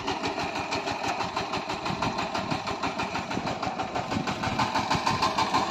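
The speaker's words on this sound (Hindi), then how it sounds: "13 HP का ये ट्रैक्टर है।" A VST Shakti 130DI 13 HP diesel tractor engine chugs steadily at close range, a rapid even knocking pulse with no break and no voices.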